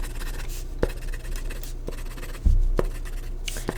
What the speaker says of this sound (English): I'm going to go ahead and write that down.